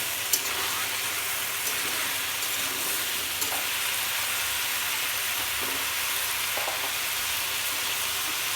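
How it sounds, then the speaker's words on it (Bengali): Vegetables frying with fish in a Bengali curry pan, giving a dense, even hiss of sizzling oil throughout, with faint occasional stirring knocks and no talk. "আমি এবার সবজিগুলো ঢেলে দেবো।"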